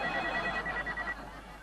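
An office telephone rings with a steady electronic trill repeating in quick bursts, fairly close and running under low background noise.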